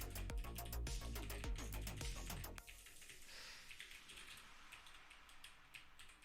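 Someone types on a computer keyboard while coding. A quick run of close, crisp key clicks stops abruptly partway through, leaving only faint scattered taps and low room noise.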